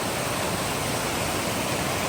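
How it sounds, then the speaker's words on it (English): A mountain waterfall fed by snowmelt below Mount Harrison near Lake Cleveland in Idaho's Albion Mountains gives a loud, steady broadband roar, unbroken and close. "That is one amazing waterfall."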